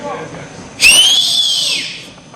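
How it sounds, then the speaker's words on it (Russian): A person whistles loudly and shrilly at an outdoor student autumn festival, a single sustained call that rises and then slides gently down over about a second, set against a noisy, murmuring crowd. "А чё свистишь?"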